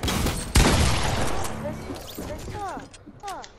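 Gunfire in a video game's creative mode opens with a loud burst of shots, then quieter echoing tails and brief chirpy game or voice sounds follow at a lower level.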